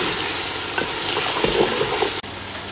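Chicken being fried with spices in a pan for chicken korma pilau, a steady loud sizzle with scraping stirs, cutting off abruptly near the end.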